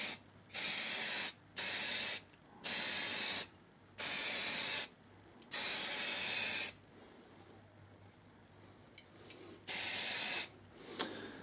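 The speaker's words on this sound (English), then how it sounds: "There, that should be our last coat." Aerosol spray paint going onto a Nissan 180SX wiper for its final coat, in six loud hissing bursts of roughly a second each at close range, then a quieter pause and one last burst.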